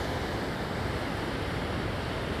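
Ocean surf breaks along the shore at Los Cristianos, Tenerife, a continuous dense roar of waves mixed with wind buffeting the microphone, steady and loud with no voices.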